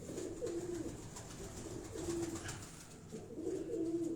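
Pigeon cooing close by in Nawab Shah, Sindh, with soft throaty coos that repeat in three short phrases over a faint, steady background.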